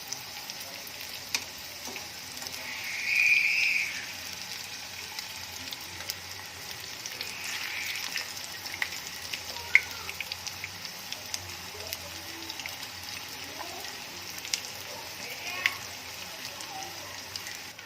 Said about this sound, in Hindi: समोसों को हमने बिल्कुल हल्की आंच पे फ्राई करना है।